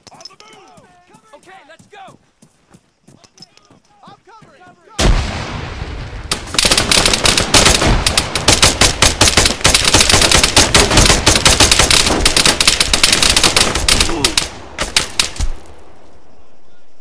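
Grenade blasts and rapid gunfire from the combat game Arma 3: a loud burst at about five seconds, then a dense, sustained barrage of shots and explosions, close and heavy, with faint talk beforehand.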